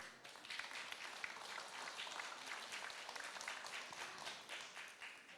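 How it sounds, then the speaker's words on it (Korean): Audience applause at a community college's 30th anniversary ceremony, a dense, even wash of many hands clapping continuously at moderate distance throughout. "박수 부탁드립니다"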